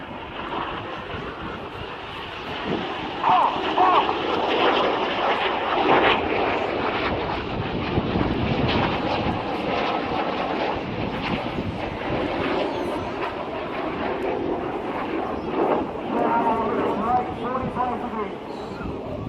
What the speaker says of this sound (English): You see the 5 headlights of Enid coming towards us. Reds 1, 2, 3 and 5 form a box shape. The fifth jet is now going to roll around them